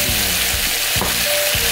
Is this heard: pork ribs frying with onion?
yes